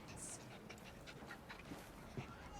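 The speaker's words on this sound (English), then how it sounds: "Is your dog quite all right?" A dog in the video game Assassin's Creed Syndicate pants steadily and softly in a quick rhythm, close by, under a constant background bed with faint game sounds.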